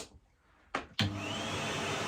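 A Henry Hoover vacuum cleaner with a freshly replaced motor clicks on, then spins up to a loud, steady whirring roar that holds to the end.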